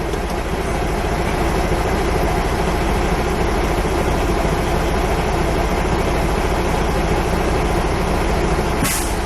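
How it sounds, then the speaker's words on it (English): Heavy truck engine idling steadily during a pre-trip inspection while air pressure builds toward 120 psi for the air brake test; a loud, continuous low rumble throughout with no talk. "then you will turn the engine on"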